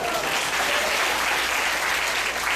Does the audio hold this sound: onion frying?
no